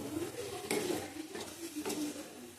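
Chicken tarka with chopped tomato and salt being stir-fried in a pot, a spoon scraping and knocking against the metal in a few sharp strokes over a soft sizzle, close and without talk.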